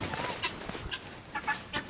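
Chickens and guinea fowl cluck in short, scattered bursts at moderate distance, a few sharper calls standing out against a quiet farmyard background.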